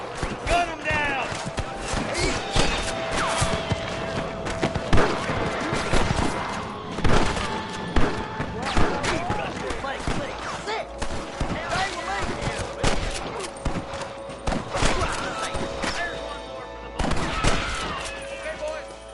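Red Dead Redemption shootout against rustlers, with bursts of rifle and pistol shots cracking irregularly, some close and loud, others farther off, mixed with shouting voices throughout.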